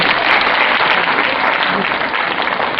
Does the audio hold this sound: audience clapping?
yes